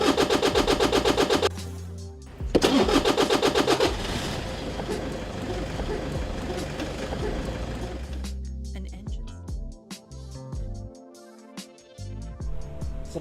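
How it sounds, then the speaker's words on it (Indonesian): An engine starter system cranks and starts an engine, heard as a rapid mechanical chatter that gives way to a sustained running engine noise, with speech over parts of it. "fungsi dari sistem starter yaitu untuk memberikan gerakan awal pada engine atau memutarkan porsi engkol sehingga engine dapat hidup"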